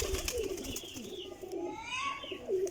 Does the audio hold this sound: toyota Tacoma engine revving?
no